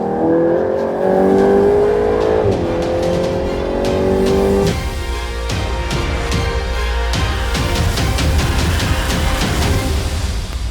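Volkswagen Golf GTI Edition 50 petrol engine revving hard on a race track, loud and close with rising pitch through gear changes, a sharp shift midway, then continued throttle with faint tyre noise.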